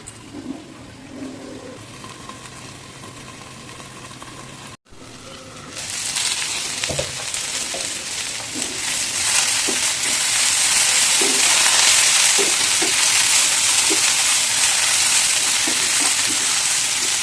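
Broad beans cook in a pan over a high flame, starting with a quieter bubbling hiss, then after a short break turning into a loud, steady, close sizzle with occasional soft clicks.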